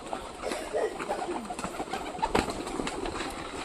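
A pigeon coos nearby in soft, repeated throaty murmurs over a faint background hiss, the calls rolling on through the short stretch without any voices.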